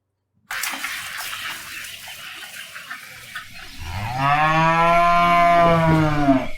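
A loud, deep bellow from a bull rises after a stretch of splashing water noise, a long sustained moo that swells and holds near the listener.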